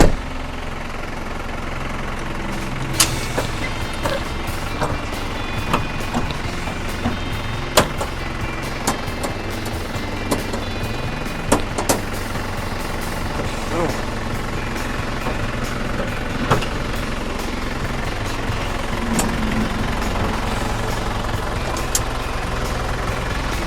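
A Hino 500 series truck, 5.5 metres long, with its original engine idling steadily nearby, a continuous low rumble with faint knocking and occasional sharp clicks, no talk.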